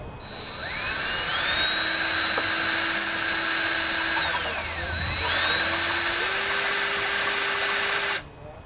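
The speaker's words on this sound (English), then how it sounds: "I've taped my drill bit so it only goes in so deep." A high-pitched power drill with a dull bit whines steadily, its motor speed sagging and recovering as it bites, then cuts off abruptly; close and loud.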